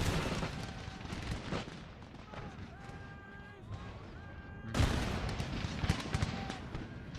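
Cannon fire in the Empire Total War battle game. Booming blasts and crackling volleys keep going under a steady battle din. A heavier blast lands near the middle, and someone talks over it.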